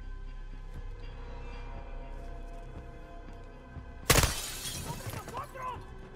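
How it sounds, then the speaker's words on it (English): Glass shattering in the Modern Warfare 2 campaign on PC, a sudden loud crash that bursts out after quiet game ambience, with falling shards and debris tinkling and rattling for a couple of seconds afterward. "glass breaking"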